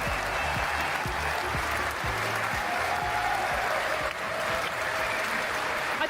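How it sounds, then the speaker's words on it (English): A live audience claps and cheers at an in-person stream event in Hackney, a continuous, dense wash of applause with rhythmic clapping and crowd noise throughout. "it's a very, very lovely cheer"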